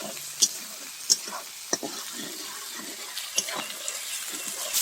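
Garlic paste frying in oil with onions, a soft continuous sizzle with a few sharp spatula clicks against the pan, fairly quiet and without voices.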